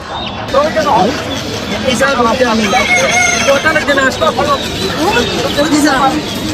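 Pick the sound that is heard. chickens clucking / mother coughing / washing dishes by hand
chickens clucking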